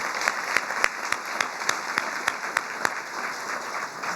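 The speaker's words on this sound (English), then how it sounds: "So let's give everyone that's been awarded so far another round of applause." Audience applause for award winners at a 2023 community impact awards ceremony: fairly quiet, scattered claps with a few sharper individual hand claps standing out in an uneven rhythm, heard somewhat distant.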